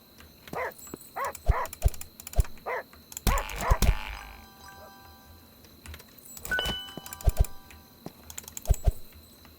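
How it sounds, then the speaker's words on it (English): A dog barks in a shop in the video game Tech Market Simulator, a run of sharp, evenly spaced yaps and later quick pairs of barks, mixed with keyboard typing and clicking. "Oh, I've got a dog in the shop."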